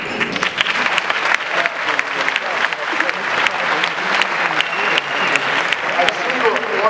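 A university lecture audience claps steadily and loudly for the whole stretch, a dense, even wash of hand claps from a large crowd in a hall.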